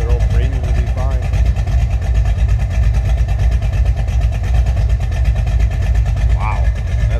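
A 1969 Dodge Dart's 383 engine idles close by with a steady, throbbing low rumble that holds throughout, while a voice briefly talks over it.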